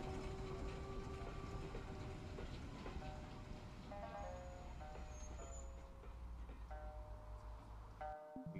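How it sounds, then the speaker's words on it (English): A train runs steadily in a video game, on the trip from Termini Station to Naples, with a continuous close rumble and rhythmic rail clatter throughout. "Train."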